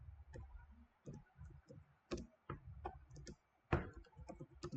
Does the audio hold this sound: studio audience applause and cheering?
no